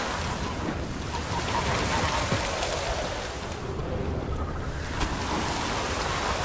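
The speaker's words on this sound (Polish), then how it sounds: "To nie robota w taki deszcz." Heavy, continuous rain hisses in The Witcher 3: Blood and Wine, a dense, even wash of noise that stays constant for the whole stretch with no talking.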